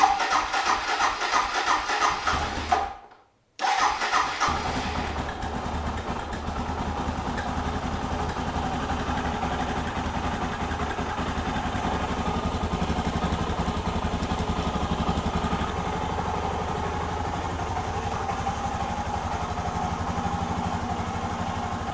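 A Suzuki DR650 motorcycle engine cranks and fires with the choke on, then settles into a steady, loud, close idle with a slightly uneven chug that runs on without talk.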